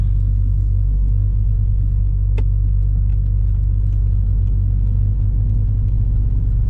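A Cadillac CTS-V on its first drive gives a deep, steady engine rumble, loud and close throughout, with one brief sharp click partway through.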